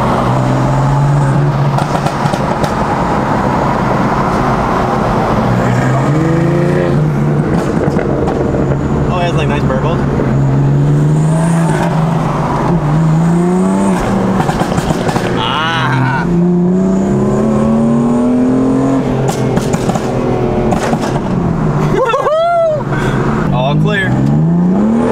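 A car engine fitted with a high-performance cam revs repeatedly, with rising and falling pitch sweeps over a loud, lumpy idle and wind buffeting, while people talk over it.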